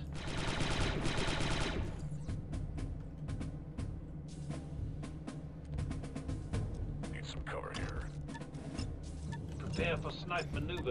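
Turret gunfire in the Star Wars: Republic Commando video game, with rapid bursts crackling loudly through dense battle noise and game music for the whole stretch, heaviest in the opening two seconds.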